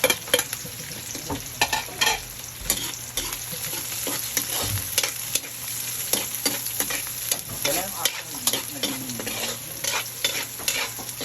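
Pork adobo with garlic sizzles and fries steadily in a pan, with repeated sharp scraping and stirring strokes from a utensil throughout, close and fairly loud, no talking.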